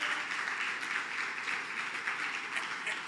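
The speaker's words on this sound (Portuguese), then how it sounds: "pode aplaudir o Senhor" A church congregation applauds the Lord during a Portuguese-language sermon, faint, even applause heard throughout at a distance with no clear voices.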